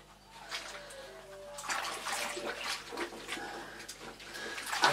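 A vintage Hoover cloth bag is gently agitated in a bowl of hot water, giving soft sloshes and trickling splashes that build in bursts, close and fairly quiet.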